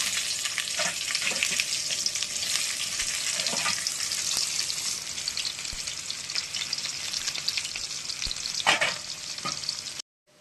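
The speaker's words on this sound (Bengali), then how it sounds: "এবার কচুরলতি পেঁয়াজ আমি দিয়ে দেবো একে।" Taro stolons and onion hit hot oil and fry with a steady, close sizzle, with faint scraping stirs now and then, until the sound cuts off abruptly near the end.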